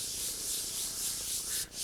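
Colour is rubbed into a craft project by hand, a soft, close, continuous dry rubbing hiss that stops briefly near the end.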